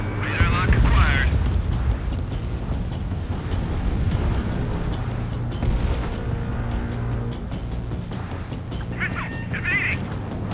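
Missile attack in the jet combat game Ace Combat 7, a continuous loud roar and booming explosions with radio voices talking over the din.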